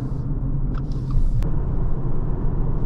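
A lifted 2021 Subaru Forester cruising on the road, with a steady low engine and road rumble filling the cabin continuously and no voices.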